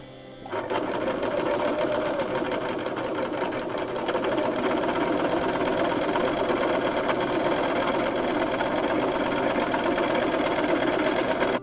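A sewing machine runs steadily and close for the whole stretch, stitching quilt patchwork pieces made from fabric scraps straight through without back-stitching, a continuous, even mechanical whir with no voices.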